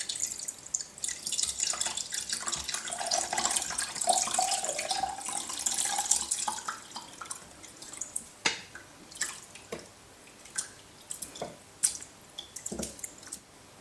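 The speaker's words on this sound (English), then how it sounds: "what I'm going to do now is to strain them either through a fine sieve or a muslin cloth" Steeped blackberry vinegar strains through a jelly bag, first as a soft, continuous trickle that gradually thins into separate drips falling at irregular intervals, close and quiet.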